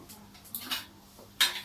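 A small fold-up metal Hexamine camping cooker being handled, a few faint light metallic clicks and clinks, one sharper clatter near the end.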